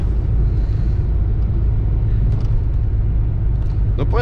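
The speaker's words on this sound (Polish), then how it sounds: "Mimo to naprawdę przyjemnie się tym samochodem jeździ." A Renault 19 on the move, heard from inside the cabin as a steady, loud low engine and road rumble that runs unbroken through the whole stretch, with a few faint higher clicks near the end.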